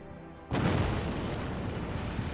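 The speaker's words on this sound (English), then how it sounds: "We're just repeatedly nuking this at this point. Kaboom." A nuclear strike detonates in the Hearts of Iron IV strategy game, landing as a sudden deep boom that swells into a sustained, rumbling roar filling the rest of the moment at steady loudness.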